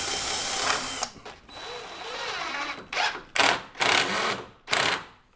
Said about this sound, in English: we're going to pre-drill through this piece right here and put a screw through it into this one